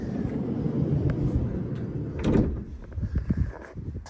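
Sliding side door of a 2023 Ford Transit AWD van with a solid glass window, rolling and thudding in a low rumble, with a heavier clunk midway and a few knocks as it settles, fairly close and alone.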